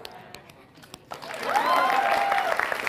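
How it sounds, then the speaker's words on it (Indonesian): Audience applause rising at a stand-up comedy moment, starting from scattered sparse claps and swelling into a fuller crowd clapping with some cheering, with a tonal sound threading through the louder part. "Mereka tepukin saya tanpa saya minta loh."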